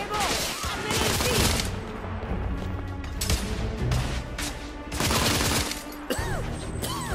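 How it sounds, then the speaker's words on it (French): Dense volleys of rifle and pistol gunfire from a firefight in The Order: 1886 crack in overlapping bursts for the whole stretch, with voices shouting through the shooting. "on tire dessus maintenant!"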